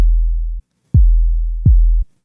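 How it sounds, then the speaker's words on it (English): Basic 808 bass notes in a simple beat: three deep, booming sub-bass hits, each with a short pitch-dropping attack and a sustained low tail, clean and isolated with silence between. "That is a brand new 808."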